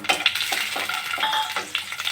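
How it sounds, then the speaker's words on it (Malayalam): Cashews and almonds fry in hot ghee in a pan, a close crackling sizzle with repeated scraping stirs of a spoon in short bursts. "ഇനി ഇതിലേക്ക് അണ്ടിപ്പരിപ്പും ബദാമും ഇട്ടെടുക്കാം."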